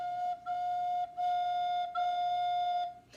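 A wind instrument, fingered with the first hole covered, the second skipped and the third covered, sounds a steady, clear F. The note is held in four sustained stretches separated by short breaths.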